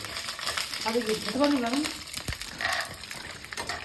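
Eggs frying in a pan of oil while chow mein is made at home, a steady close sizzle with stirring clinks throughout, mixed with background household noise and a brief sharp knock near the middle.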